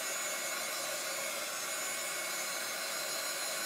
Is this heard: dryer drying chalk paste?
yes